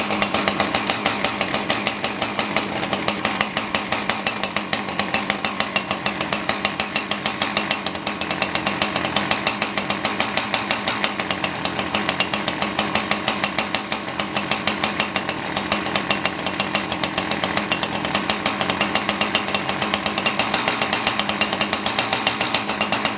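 A Husqvarna 357XP chainsaw, pull-started with no choke and running lean with no idle, buzzes loudly and continuously for the whole stretch with a rapid, rough, pulsing rattle.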